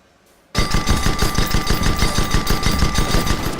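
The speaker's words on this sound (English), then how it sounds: "Shoot at that target dummy's hull till it breaks." A ship-mounted gun in the Guns of Icarus game fires rapidly at a target dummy's hull, a loud, close, rhythmic stream of evenly spaced shots that begins abruptly and continues without pause.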